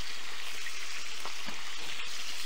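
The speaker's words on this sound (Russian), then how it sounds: "Масло брызгает, блин." Oil sizzles and spatters steadily in a frying pan with garlic, a close, continuous crackling hiss with a few sharper pops.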